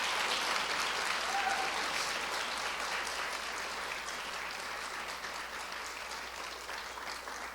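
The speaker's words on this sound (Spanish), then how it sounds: "Y quiero que les demos un fuerte aplauso a ellos." Steady applause from a community gathering audience, moderately distant and sustained for several seconds while thanks are offered to family members, slowly easing off.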